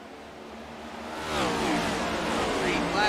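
NASCAR Next-Gen Cup Series race cars at Daytona International Speedway roar past with a rising engine whine and sweeping pitch shifts, loud and close, with a commentator talking over the noise.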